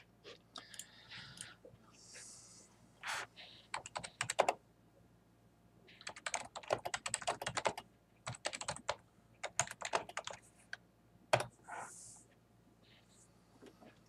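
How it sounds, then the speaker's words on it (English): Bursts of quick key presses on a computer keyboard as an address is typed, soft and close, coming in irregular clusters separated by short pauses. "So here I just typed in the address of the old state office site in Waterbury."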